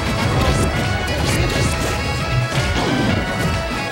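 Heavy smashing impacts and crashes from a Project M match where Donkey Kong lands a charged giant punch, loud and continuous through a busy, noisy stretch of gameplay.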